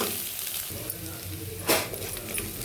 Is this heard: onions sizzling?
yes